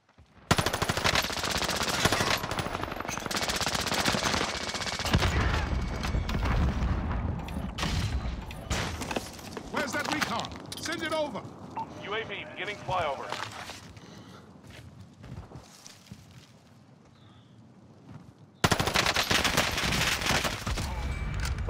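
Rapid automatic gunfire in a Call of Duty style shooter, dense bursts of shots with booms and footsteps, loud and close, while a player talks throughout.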